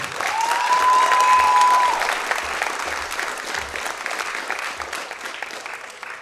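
Audience applause at an Icelandic classic deadlift powerlifting championship: a full, dense burst of clapping swells early, then slowly thins and fades, with a brief whistle near the start and a few low thumps underneath.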